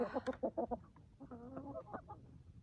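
Chickens cluck near their coop in a quick run of short, fairly close clucks followed by a drawn-out, wavering cackle, with no talking over them.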